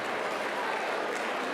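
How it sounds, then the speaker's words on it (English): Audience applause for alumni dancers at a folk dance ensemble's 40th anniversary concert, a dense steady clatter of clapping throughout. "A big round of applause for our alumni dancers who will be performing later this evening."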